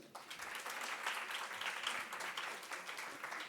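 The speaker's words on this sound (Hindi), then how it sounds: "मैम के लिए ताली बजा दीजिए।" Sustained audience applause fills a Modi Mahotsav event hall in honour of a woman working on a big project: dense, even clapping from many hands, steady and fairly loud throughout, with no voices on top.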